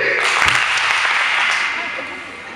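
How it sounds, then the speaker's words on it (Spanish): An audience at a talk gives a strong round of applause on cue, a loud, dense burst of clapping that tapers off over a couple of seconds. "A la cuenta de 3, ustedes van a darse un fuerte aplauso."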